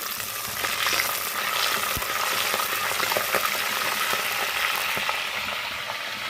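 Fresh backyard curry leaves dropped into hot oil sizzle and crackle loudly and steadily up close, with small pops and occasional stirring knocks throughout.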